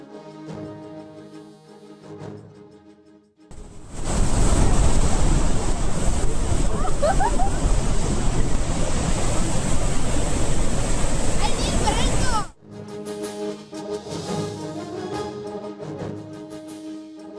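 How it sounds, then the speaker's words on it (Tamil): Flood water roaring over the Shivanasamudram waterfall in Karnataka: a loud, dense, continuous rush that cuts in abruptly and holds for about eight seconds, with quieter music-backed narration before and after. "அருவியின் அனைத்து பகுதிகளிலும் ஆர்ப்பரித்து கொட்டும் வெள்ள நீரின் கண்கொள்ளா காட்சி"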